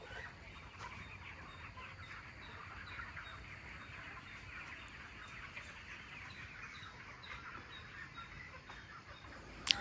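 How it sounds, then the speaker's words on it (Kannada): Morning birds at a village farm beside a chicken farm: faint, distant clucking and bird calls over a steady outdoor ambience. "ಬೆಳಗ್ಗೆನೇ ಹಕ್ಕಿಗಳ ಸೌಂಡು"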